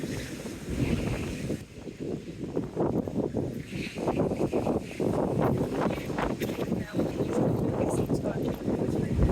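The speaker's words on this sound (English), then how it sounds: "it really is blowing a gale" Strong gale-force wind on the Teignmouth seawall buffets the microphone in continuous loud roaring gusts, with a voice partly audible beneath the noise.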